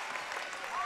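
Basketball crowd roaring steadily for a three-pointer at an NBL1 men's game between Albury Wodonga and Nunawading, a dense, sustained cheer with a commentator's voice over it.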